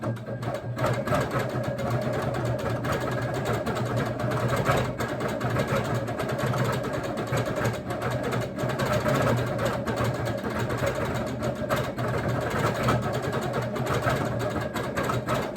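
Quilting machine stitching ice-dyed fabric in regulated cruise mode at about 14 stitches per inch, a continuous steady mechanical hum and rapid needle chatter, close and even for the whole stretch with no talking.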